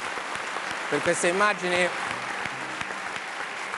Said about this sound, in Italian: intanto un applauso